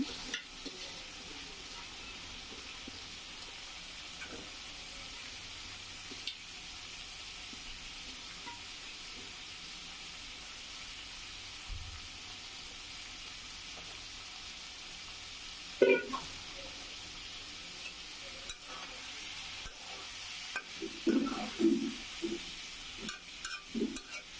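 Potatoes fry alongside sautéed vegetables in a pan for a Bengali potato and small dry fish curry, a low continuous sizzle with occasional stirring scrapes that grow busier near the end, and no one talking.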